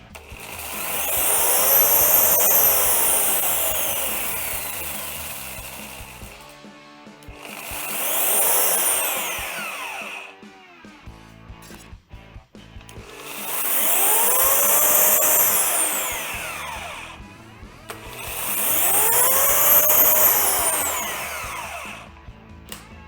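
A Procraft K2000 electric chainsaw runs in four separate bursts, each winding up to a loud whining buzz and spinning down again, close by with short pauses between them.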